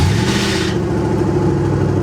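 A twin-turbo Chevrolet Malibu engine fires up and settles into a steady, loud running drone, with a brief hissing burst at the start before the low rumble continues evenly.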